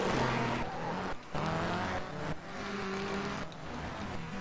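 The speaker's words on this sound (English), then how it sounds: "As Dylan Smith and Livingood are battling, and into the wall in the dirt section" Rallycross race cars battle through a dirt section at a NASA RallyCross round in Valkenswaard, engines roaring loud and close with revving shifts, gear changes and gritty tyre noise across the whole stretch.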